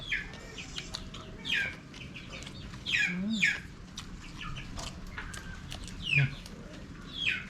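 Chicken clucks and short calls ring out at intervals over a steady outdoor background with bird chirps, with a few louder bursts standing out near the listener.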